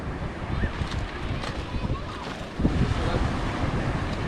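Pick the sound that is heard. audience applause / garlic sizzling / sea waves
sea waves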